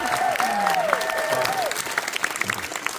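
An event crowd applauds at a series premiere, steady dense clapping with a few cheers and faint whistling tones, lively throughout.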